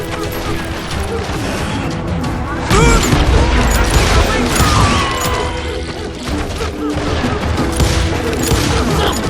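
Gunfire in the western shooter game Call of Juarez: Gunslinger, loud and continuous, with sharp crashes, booms and impacts layered over the shots and a heavy blast partway through.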